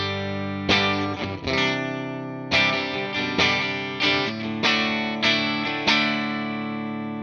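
Electric guitar played through the normal channel of a Vox AC15 on a clean tone from the bridge pickup, strummed chords ringing out with sustain, several distinct strikes in a loose rhythm.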